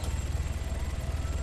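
A helicopter in the Arma 3 game, rotor thumping in a steady rapid beat with a low engine drone, heard continuously from inside or close by.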